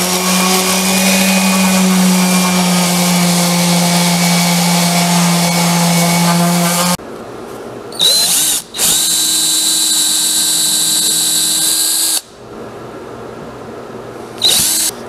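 Power drill driving screws into half-inch plywood on a purple martin birdhouse, a long loud whirring run followed by shorter spurts of the drill revving and stopping, close by and without speech.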